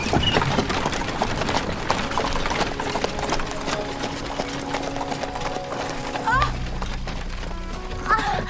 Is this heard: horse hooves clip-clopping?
yes